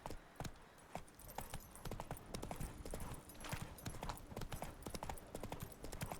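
Roach the horse trotting in The Witcher 3, distinct rhythmic hoof clops repeating evenly and fairly close, with light background game ambience.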